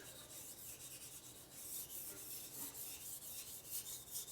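Sandpaper scrubs heavy rust on an old Harley part, a steady, faint rasping rhythm of short strokes repeating for several seconds, close and without talk.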